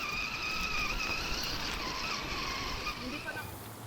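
A vehicle engine revs hard while climbing uphill on a camping ride, a loud, steady strained whine under rushing noise, with possible voices in the background.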